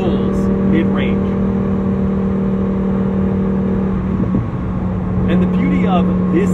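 A supercharged Lamborghini Huracan STO with a Roots or twin-scroll VF supercharger, 840 hp, pulls strongly through the mid-range. It makes a loud, steady, droning engine note with a constant whine, heard from inside the cabin, while someone talks over it.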